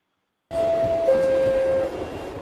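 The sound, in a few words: New York subway train pulling into a station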